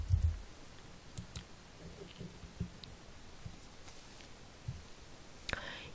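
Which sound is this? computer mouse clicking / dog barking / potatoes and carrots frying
computer mouse clicking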